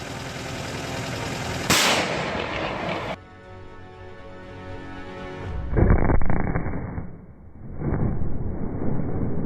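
Two loud booming artillery blasts during combat in the war in Ukraine, each followed by a rolling rumble, with a distant echo dying away between them.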